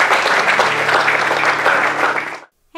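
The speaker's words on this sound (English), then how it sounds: "Give God a big hand clap of praise if you love Him" A church congregation claps loudly in praise, a thick, sustained burst of applause with a low tone beneath it, which stops abruptly near the end.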